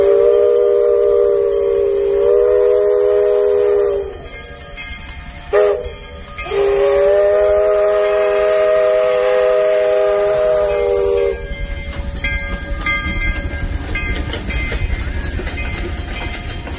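A steam locomotive built in 1905 in Philadelphia, Pennsylvania, on a Christmas train ride in Carson City, sounds its loud steam whistle in long sustained blasts, with a brief break, then rolls on with steady hissing rumble and clatter.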